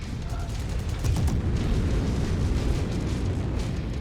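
A mech exploding in the Mechwarrior 5 video game, a heavy, booming low rumble that swells and lingers for a few seconds, with a voice speaking over it.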